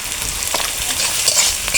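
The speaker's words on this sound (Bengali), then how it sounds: "পেঁয়াজ রসুন হালকা একটু ভেজে নিয়েছি" Chopped onion and crushed garlic fry in oil for a big fish curry, giving a steady, dense, close sizzle with light stirring and no voices.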